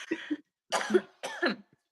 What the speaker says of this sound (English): Does anyone else just briefly have the cough that doesn't want to go away?